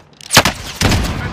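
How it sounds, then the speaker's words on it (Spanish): Gunfire in Call of Duty Warzone, two close loud bursts of shots, the first sharp and short, the second a longer rattling volley, with no speech. "¡Me disparan!"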